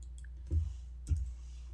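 Two crisp mouse clicks about half a second apart, close and fairly loud over a low steady hum, with no talking, while a link in an online Markdown editor is clicked.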